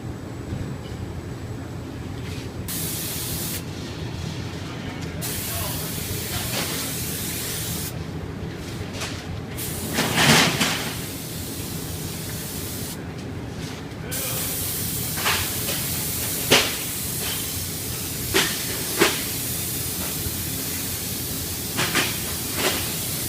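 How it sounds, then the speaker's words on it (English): A Wagner air mix spray gun sprays paint in a long, steady, loud hiss that runs almost unbroken, with a few short gaps and occasional brief clicks. "Now you can see we've got a nice even spray pattern all the way across."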